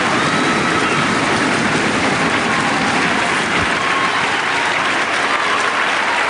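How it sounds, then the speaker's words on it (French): A crowd applauds thunderously after Evgeni Plushenko's 2006 Courchevel figure skating gala performance, giving loud, dense, sustained clapping that fills the arena with no commentary over it. "Et le public applaudit vraiment à tout rompre"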